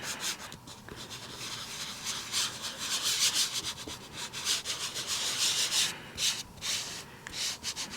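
Steady, close scrubbing of ink being rubbed hard into a fabric-topped craft ink tool, a continuous rasping rub in quick back-and-forth strokes with no talking.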